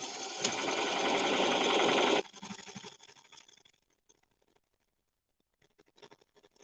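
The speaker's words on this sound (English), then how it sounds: "we're just going to stitch about 1/2 inch in all the way along this edge" A sewing machine runs in one steady burst for about two seconds while stitching the seam of a mesh drawstring bag, then stops, followed by quieter clicking and handling noises with no talking.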